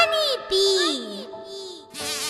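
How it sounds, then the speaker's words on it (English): A honeybee buzzing in a children's lesson on living things, heard as a few short, high, wavering buzzes in separate bursts, close and fairly loud. "Honeybee."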